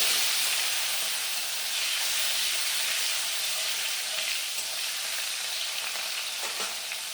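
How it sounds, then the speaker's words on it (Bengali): A steady, loud sizzle of chopped tomatoes frying in a pan with cumin for a tilapia curry, a continuous bright hiss that barely changes, with no voices. "টমেটোটা আমি ভাজা ভাজা করে নিয়েছি"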